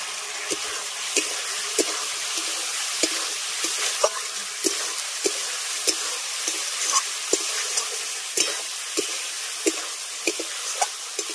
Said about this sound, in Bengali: এবার ভেজে রাখা পটল আর আলুটা দিয়ে ভালো করে একটু মশলার সঙ্গে আগে কষিয়ে নেব।